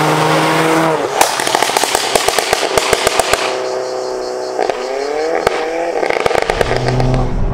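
A tuned Alfa Romeo Giulietta Quadrifoglio Verde with a K04 turbo revs hard, its engine note rising and dropping repeatedly, punctuated by sharp crackles and pops from the exhaust, loud and close.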